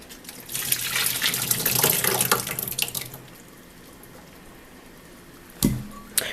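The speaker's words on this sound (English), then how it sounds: "So what we're going to do is get cold water. And now you just rinse them out until they're all separated." Cold tap water runs steadily into a sink as tapioca pearls are rinsed, a close splashing stream for about three seconds that then quiets, with a sharp clunk near the end.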